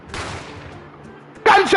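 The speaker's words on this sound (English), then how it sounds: "A gunshot rang out" A single sharp gunshot sounds in the video game The Great Ace Attorney Chronicles, a loud crack with a ringing decay, followed by a brief burst of another loud game sound.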